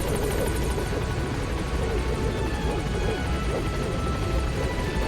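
A helicopter in the video game Metal Gear Solid V: The Phantom Pain, its rotor and engine roar thick and loud, pulsing steadily and filling the whole stretch without a break.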